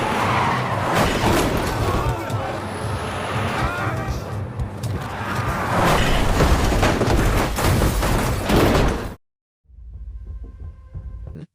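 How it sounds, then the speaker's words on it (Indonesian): A truck deliberately rams police cars and a prisoner bus, a long loud roar of skidding tires, engine noise and crashing impacts that cuts off abruptly into near silence before a quieter rumble resumes. "tiba-tiba ada sebuah truk yang sengaja menabrak mobil para polisi dan bus yang membawa"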